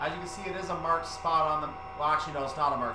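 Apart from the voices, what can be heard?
No everyday noises stand out.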